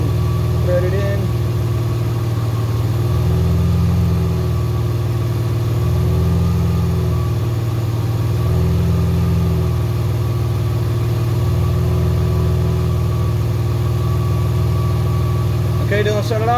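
The engine of a 2006–2011 BMW 328i runs steadily and loudly during a transmission fluid and filter change, with a constant low hum and slight rises in tone.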